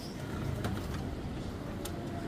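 Pigeons coo softly as a low, murmuring sound beneath steady outdoor background noise, with a faint flutter of activity.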